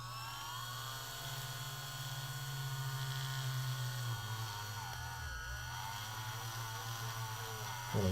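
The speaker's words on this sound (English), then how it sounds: "you want to drill a hole down the center peg" A power drill bores into a plastic peg during a Spider-Man toy repair, giving a steady, close, high-pitched whine with a slight dip in speed partway through before running on.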